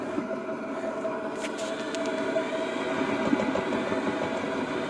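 A Sibo B5 dough mixer runs on a flat surface, its motor giving a steady, even mechanical drone with faint rattles throughout, close by and without speech.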